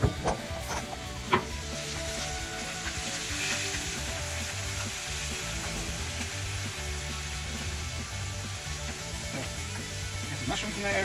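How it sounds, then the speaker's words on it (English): Steady sizzling of mushrooms frying in a pan, a constant crackling hiss with a few sharper clicks near the start. "I'm gonna cook these mushrooms and put them right in."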